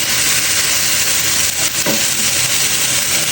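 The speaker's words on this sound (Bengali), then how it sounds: "একটু ফ্রোজেন করা ফুলকপি একটু ভেজে নিচ্ছি, যেন কোনো গন্ধ না লাগে।" Frozen cauliflower fries in a pan with a loud, dense, continuous sizzle close up, a brief dip and a stir midway, no talking.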